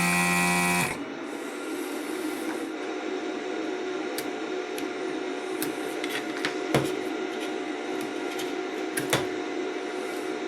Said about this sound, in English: I'm gonna fire up my very noisy desoldering station here